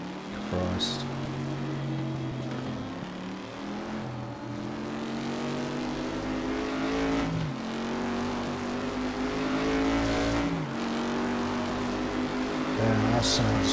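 A Group 5 race car engine in the RaceRoom racing game drones loudly and continuously, rising in pitch through each gear, then dropping sharply at gear changes several times, with faint background noise.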